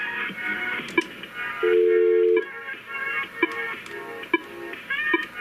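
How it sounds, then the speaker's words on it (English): Norstar IP phone key presses played through the speakerphone at full volume: a run of short beeping tones with one longer steady tone, evenly paced and alone. "I hear the familiar Norstar key press sound, which is coming also out the speakerphone."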